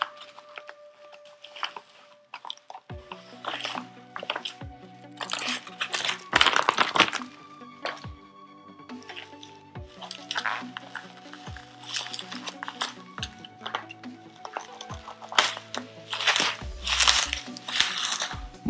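Packaging around a new edition of the book "The Children of Húrin" being cut open and pulled off by hand: intermittent close crackling, crinkling and tearing bursts with sharp knocks, someone speaking now and then between them.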